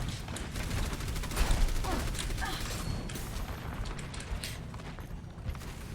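Dense rapid gunfire from an online team shooter match, a steady rattling fusillade of bullets with scattered sharp cracks, loud and continuous throughout with no talk.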